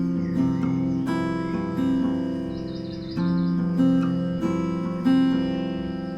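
Fingerstyle guitar in an open tuning, played on open unfretted strings, picks out a steady repeating pattern of clear, ringing plucked notes that sustain and overlap at close range, with no talking.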